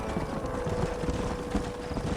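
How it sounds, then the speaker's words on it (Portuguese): Horse hooves clip-clop steadily in the western video game Red Dead Redemption, a continuous, fairly close trotting rhythm over a low ambient rumble. "Meu cavalo tá indo sozinho pro lado."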